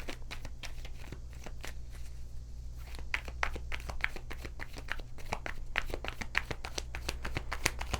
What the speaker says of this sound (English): Get you a good shuffle.